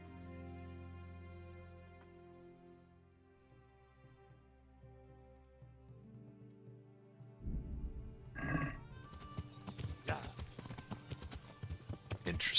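Horse hooves clip-clopping in the medieval video game Kingdom Come: Deliverance, a steady rhythmic trot that starts under quiet music and grows denser and louder toward the end, with some talk mixed in.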